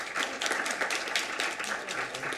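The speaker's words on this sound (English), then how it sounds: "Let's give her a round of applause." Applause from the audience at a Board of Education meeting welcoming a new board member, a steady dense wash of clapping held at an even level throughout, with a faint voice under it.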